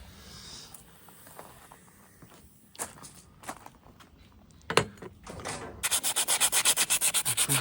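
Hand sanding on parts of a vintage petrol pump: irregular close scrapes and rubs give way to a fast, steady back-and-forth sanding rhythm, loud and near, with no talking.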